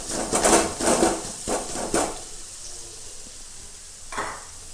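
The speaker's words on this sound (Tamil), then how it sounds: "வெங்காயம் வந்து நல்லா வதங்கணுங்கிறது இல்லைங்க ஒரு செவன்ட்டி பர்சன்டேஜ் வதங்கினா போதும்" Onions sautéing in a pan, close, with a few bursts of stirring and scraping over a low, steady sizzle that fades as the strokes stop.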